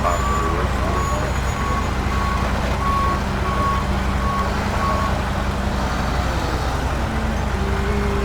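Video game fire truck with outriggers deploying: a steady loud engine rumble with a repeating high electronic beep, under quiet talking.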